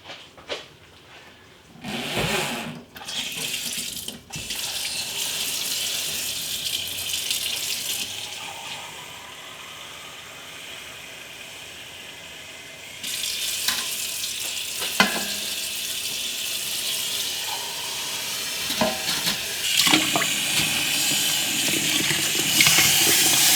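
Tap water running into jars set inside an electric canner for preheating before jam canning, a steady hissing flow that stops and restarts, near and fairly loud, with clinks of glass and handling between pours.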